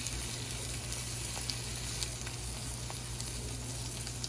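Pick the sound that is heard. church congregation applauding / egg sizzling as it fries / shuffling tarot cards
egg sizzling as it fries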